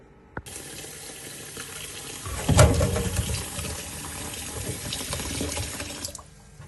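Tap water running into a container to soak kodo millet for pittu, starting with a brief knock, then a strong gush that settles into a steady close pour before stopping.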